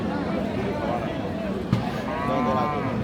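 A Friesian cow moos at a Bangladeshi cattle market in Raniganj, a drawn-out low lowing under steady crowd chatter and nearby talk, with one sharp knock partway through.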